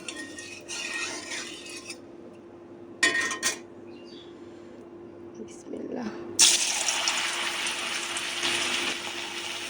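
Jackfruit kofta balls slip into hot oil, bursting into a loud, steady sizzle that holds to the end, after quieter kitchen clatter and a spoken voice.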